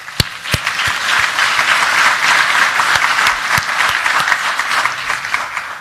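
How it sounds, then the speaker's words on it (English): A large audience claps in a sustained, dense round of applause in a hall, steady and full throughout with a few sharper nearby claps standing out. "let's give him a round of applause"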